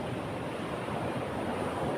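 Ocean waves break against a stormy shore near a beached boat, a steady, dense wash of surf with wind blowing across it, continuous and fairly loud with no distinct individual crashes.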